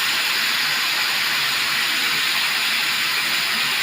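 Chopped onion sizzles in hot oil in a pan while radish, carrot and bean are fried together, a steady, loud frying hiss with no pauses and no talk.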